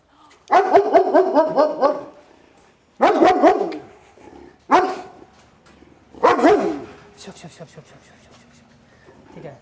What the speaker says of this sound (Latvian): Īstenībā tā visā riešana, tas ir bailes īstenībā.